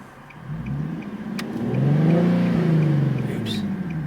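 A Nissan 370Z with a long-tube intake accelerating through a gear, the engine note rising and swelling close up, then easing off, with brief talk in the cabin.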